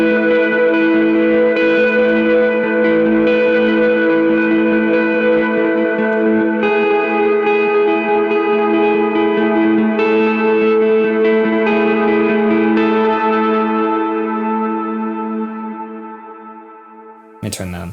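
Lead electric guitar plays the intro riff of a worship song, soaked in delay, reverb and chorus effects; sustained ringing notes shimmer continuously, loud and close, before fading near the end.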